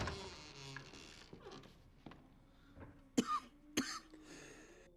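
A person coughing while playing the survival horror game Resident Evil 7: Biohazard, several sharp close coughs, two especially loud bursts near the end, amid faint throat-clearing and soft background game sounds.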